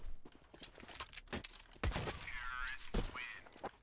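Gunshots and bursts in CS:GO: several sharp cracks spaced out, then a louder run of firing with ringing, whooshing game effects, close and clear.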